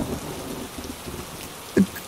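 Rain in a cartoon story: a faint, steady patter of falling rain with low rumbling, and a single short thump near the end.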